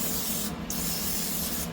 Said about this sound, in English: I'm just going to use the spray, non-stick cooking spray.